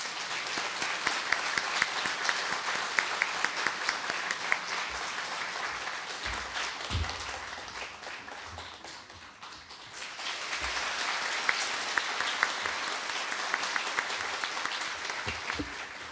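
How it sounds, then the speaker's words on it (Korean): Sustained applause from an audience at a Pusan National University president's farewell ceremony, steady dense clapping that dips briefly midway and then swells again, with a few thumps near the microphone. "큰 박수로 환영해 주십시오."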